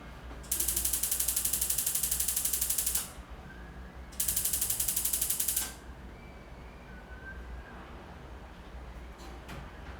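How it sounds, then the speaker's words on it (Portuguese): An oven is switched on with a turned knob, giving rapid ratcheting clicks in two bursts of a few seconds each. The clicks are close and crisp, with quiet room tone between and after them. "agora sim eu vou ligar o meu forno"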